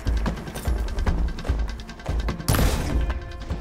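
A triple shot fired during combat in the video game Horizon Forbidden West, heard as a run of sharp thuds and impacts with a louder burst of crashing noise partway through, set against game background sound.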